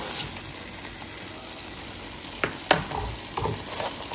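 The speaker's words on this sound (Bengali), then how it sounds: "এই ভাজা মাছগুলোকে দিয়ে দেবো" Fried small fish are tipped into a spicy curry in a pan, with a steady soft sizzle under a few sharp clatters of stirring and scraping close by, and no talking.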